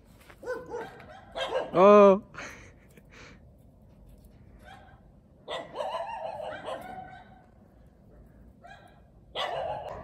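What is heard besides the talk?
dogs barking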